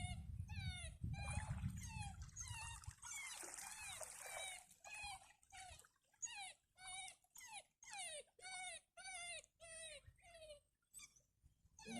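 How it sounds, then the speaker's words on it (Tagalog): A dog whimpers in a run of short, high, wavering cries, repeated steadily, with some rushing water-like noise near the start. "Yung aso ay umiyak."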